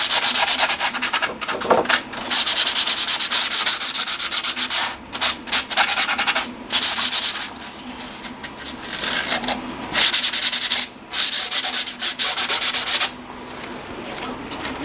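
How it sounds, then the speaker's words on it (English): Steady, scratchy rasping of folded open-structure sandpaper sanding the edge of a 3D-printed RC jet wing, loud and close, coming in long strokes broken by short pauses, with no talk. "For sanding it, I'm using this open structure sanding paper."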